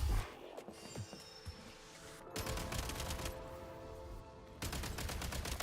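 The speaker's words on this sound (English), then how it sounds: "Normal attacks charge a firearm." Rapid firearm gunfire in the video game Genshin Impact, dense bursts of shots at moderate distance that pause briefly and then resume, continuing to the end.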